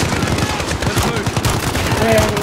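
Rapid bursts of gunfire in the Modern Warfare video game, dense overlapping shots crackling close and loud through a busy, noisy scene with no talk.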